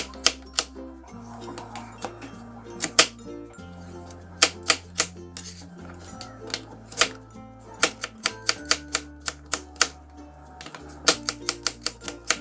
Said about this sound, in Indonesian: Nunggu atinya mendidih, kita bisa iris dadu kentangnya.